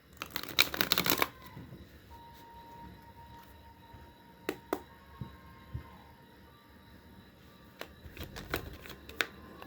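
Tarot cards shuffled in a loud riffling burst at the start, followed by scattered light taps and card snaps against a quiet background with a faint steady hum.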